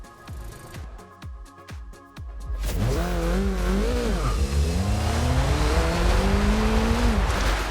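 A car in Forza Horizon 2, untuned, driving on a track: after a few clicks, the engine roars loud and close, revving up through rising and falling gear changes in a continuous strained whine.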